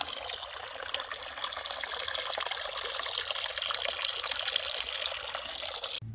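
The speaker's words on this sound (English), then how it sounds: "There's a little water source." A small mountain spring in the Smokies trickles straight out of the rock, a faint, steady watery patter with no voices.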